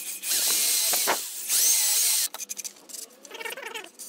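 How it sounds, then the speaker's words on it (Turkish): A power drill bores holes in wooden easel parts, whining loudly and steadily for about two seconds before cutting off, followed by quieter clatter and short scraping handling sounds nearby. "Aynı şekilde ikinci parçamızı da deliyoruz."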